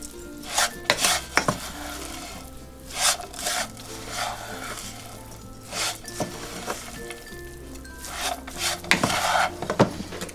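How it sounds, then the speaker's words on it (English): A chickpea meatball mixture is worked by hand or spoon in a bowl, giving irregular rubbing, squelching and scraping strokes with brief pauses, close and moderately loud, with no talking. "we're going to mix it together"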